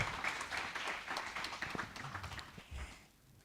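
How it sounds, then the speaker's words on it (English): An audience at a Kenyan investment panel event gives a warm round of applause, a dense wash of many hands that stays fairly soft and trails off near the end. "A round of applause for Elizabeth."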